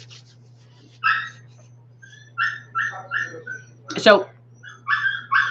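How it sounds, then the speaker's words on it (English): A dog barks and whimpers indoors in short yips and whines, spaced apart and fairly close, with a steady low hum underneath and a brief spoken word. "my son's dog is acting up"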